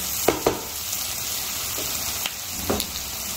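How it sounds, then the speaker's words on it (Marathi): Spices with ginger and garlic sizzle steadily in hot oil, with a few sharp clinks of a spoon against the pan over the constant frying hiss. "छान असा मसाले परतून झाले."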